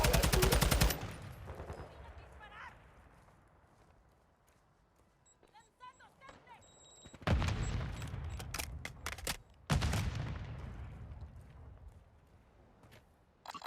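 Gunfire in the shooter game Warzone 2.0: a loud dense automatic burst opens, then after a quiet stretch several sharp shots and rapid bursts crack in clusters near the end, with a voice speaking between them.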